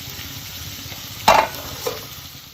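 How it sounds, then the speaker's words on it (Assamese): Yogurt-marinated chicken frying in oil, a steady sizzle underneath with a sharp stirring scrape midway and a softer one shortly after, close and fairly loud. "মই এইফালে চিকেনখিনি তেলত দি দিলোঁ আৰু ভাজি আছোঁ ধুনীয়াকৈ।"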